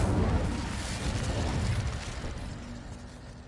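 The Incendio fire spell cast in Hogwarts Legacy on PS5 bursts out as a low, rumbling whoosh of flame that swells at once and then slowly fades, with no one talking.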